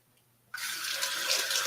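Water from a kitchen tap starts abruptly and keeps running steadily while mushroom pieces are rinsed, a close, moderately loud hiss after half a second of near silence.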